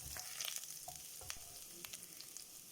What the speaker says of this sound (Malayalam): അതിൻ്റെ പച്ചമണം മാറുന്നത് വരെ നമുക്കൊന്ന് ഇളക്കി കൊടുക്കാം.